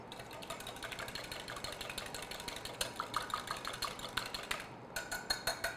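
A whisk clicks rapidly against a bowl, beating a large egg yolk with a tablespoon of cream into an egg wash, fast steady rhythmic taps close by that sharpen toward the end, with no talk.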